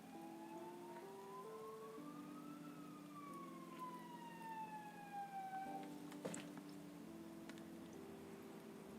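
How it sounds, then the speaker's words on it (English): An ambulance siren wails past outside in an old village, its rising and falling tones steady and moderately distant, muffled as if heard from indoors, with a brief knock partway through. "There's the ambulance driving outside."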